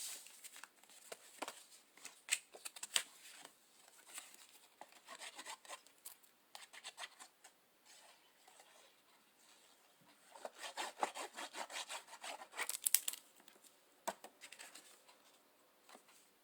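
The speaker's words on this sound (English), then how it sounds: "I have to use my trimmer." A paper trimmer slices through cardstock in repeated quiet, close scraping strokes that come in bursts separated by short pauses, with no voices.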